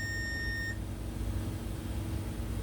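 A multimeter continuity tester beeps while probing a Lenovo L450 (NM-A351) laptop motherboard: one steady, high electronic tone lasting under a second, then cutting off, leaving a low background hum.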